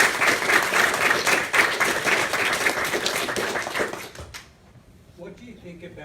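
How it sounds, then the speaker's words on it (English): Audience applause for a speaker at a talk on mass unemployment, a dense burst of many hands clapping that continues for about four seconds, then abruptly thins out and fades into quiet room tone. "Give a round of applause first for Alyse."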